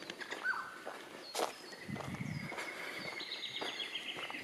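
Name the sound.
birds calling in forest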